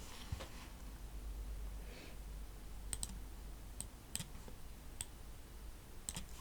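Computer mouse clicks during photo editing in Lightroom, a handful of faint, sharp single clicks spaced irregularly over a low steady background hum.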